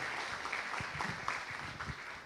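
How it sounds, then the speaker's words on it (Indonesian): A crowd claps steadily and warmly for a guest speaker at an Indonesian youth climate-resilience talk show festival, a dense, sustained patter of many hands with a few soft thumps and no talking over it. "Boleh kita berikan tepuk tangan yang paling hangat untuk Pak Ade."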